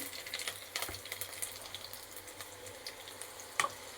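Soft, steady sizzling of garlic and nigella seeds frying in hot oil, with faint crackles and a small clink near the end.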